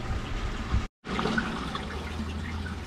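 Water flows back into a koi pond from a biofilter, a continuous splashing trickle interrupted by a brief silent cut before the flow resumes.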